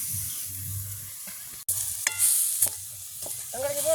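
Food is stirred in a pot over an outdoor village fire with a soft bubbling simmer underneath and several scraping strokes and knocks from the spoon. A sharp click sounds midway, and a faint whistling tone comes near the end.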